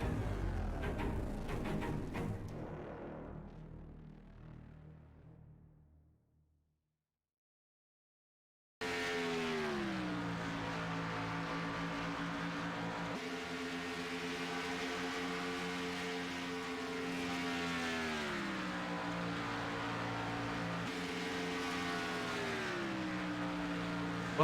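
Race car engines in the iRacing game: a faded earlier engine roar drops into silence, then a sustained loud engine drone with rising and falling pitch as the cars accelerate and shift, no talk.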